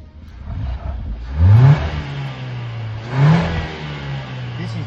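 A car engine idles steadily during water injection carbon cleaning, with two distinct revs rising and falling about two seconds apart, close and fairly loud.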